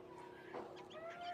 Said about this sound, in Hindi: अब उधर आपको मुर्गियों की भी आवाज़ें आ रही हैं।